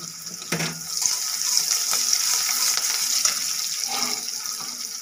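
Chopped onion tempering in hot oil for a village-style fish soup with banana, giving a steady close hiss of frying that runs the whole time, with a few light clatters near the start.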